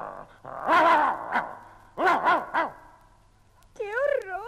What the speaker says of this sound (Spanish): ¡Qué ladrido tan potente!